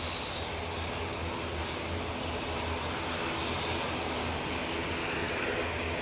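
Propeller airliner taxiing at Manchester Airport, bound for Guernsey: a steady, broad engine roar holds at constant loudness throughout, with no voices over it.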